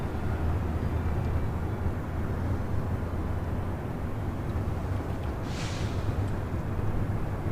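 A Korean Air Airbus A380 Super, nine years old, at LAX, heard as a steady low jet rumble that fills the whole stretch with no talk, with a brief higher rush partway through.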